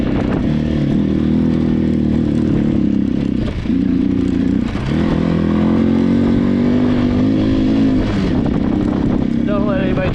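Off-road motorcycles race around a dirt track, engines droning steadily and loudly throughout with a few revving surges, while voices are faintly mixed in beneath.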